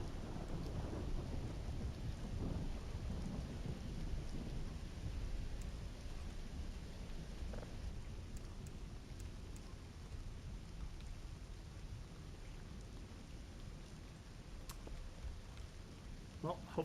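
A thunderstorm in the horror video game Voices of the Void: steady rain hisses throughout while low, rolling thunder rumbles underneath. The whole scene stays fairly quiet and distant.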